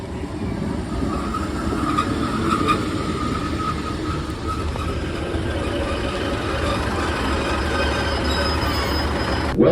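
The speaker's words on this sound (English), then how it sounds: "So yeah, so our train should be arriving, which is the 12:30" Northern train arriving at a station platform, a continuous low rumble of wheels with a faint high squeal running through, steady and fairly close.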